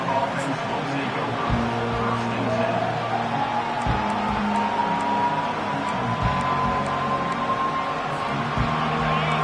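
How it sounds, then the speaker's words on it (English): A college football stadium crowd roars in a steady, dense wash of noise for the whole stretch, with a commentator talking over it. "This crowd trying to show them what it's going to be like all day in this house."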